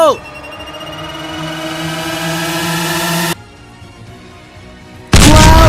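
A missile launching in a video game: a loud sustained rising whoosh with tonal engine roar, a sudden drop to quieter rumble, then an abrupt loud burst at the end, with no talk.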